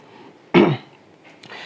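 A single sharp cough with a rough throat clear, loud and close, standing out against a quiet background, followed by faint soft noises.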